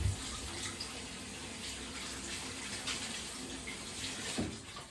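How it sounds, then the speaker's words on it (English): Hands washed under a running kitchen tap during beef stew preparation, a continuous close splashing water stream with a small knock near the end, no speech. "So just wash my hands again."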